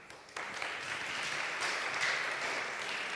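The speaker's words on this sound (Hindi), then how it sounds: "ज़ोरदार तालियां इन बच्चों के लिए" Applause for children at a St Paul's Church Slough Asian Fellowship Friday meeting: a dense, steady clapping of a crowd that begins abruptly after a brief pause and carries on evenly at close range.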